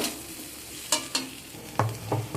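Spinach and bori with cumin in a pan, stirred with a few distinct scraping strokes over a soft, steady sizzle, close and alone with no speech.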